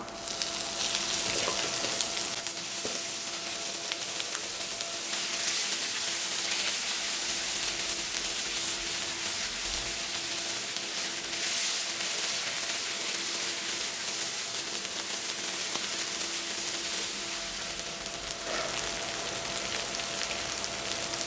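Boiled chicken liver fries in a pan with ginger garlic paste, giving a continuous, even sizzle and crackle much like steady rain, heard close up and with no talking.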